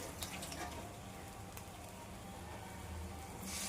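Hot oil deep frying dipped pieces, a steady crackling sizzle with fine bubbling hiss running continuously and close, a little brighter toward the end.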